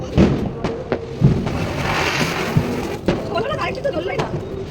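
Diwali firecrackers going off outdoors, sharp bangs and crackles scattered through a noisy festive scene, with people talking and shouting over them.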